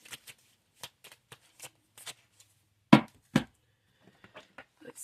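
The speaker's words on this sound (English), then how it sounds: "Let me shuffle this real quick" Tarot cards being shuffled by hand, sparse crisp riffling flicks and taps spaced irregularly, with two louder slaps near the middle, close and otherwise quiet.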